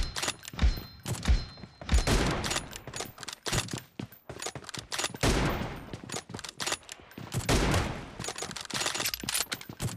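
Gunfire in PUBG Mobile during a team deathmatch with the M24 rifle, a mix of sharp shots, thumps and rapid bursts spread over ten seconds at moderate loudness amid busy game noise, with no talking.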